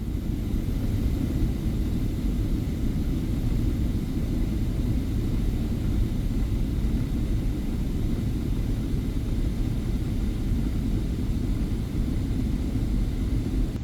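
A Boeing 777-300ER airliner descending to land at Suvarnabhumi airport, heard from the cabin as a steady, even engine and airflow rumble that stays constant throughout.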